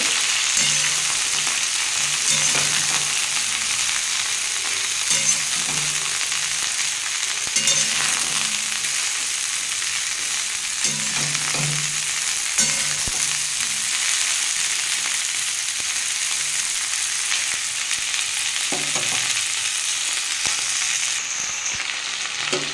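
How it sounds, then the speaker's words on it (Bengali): Broccoli fries in hot oil in a pan, the same oil just used to fry fish. A continuous bright sizzle runs throughout, with occasional soft stirring knocks and no talk. "এই বকলিগুলো লাল লাল করে ভেজে নেব।"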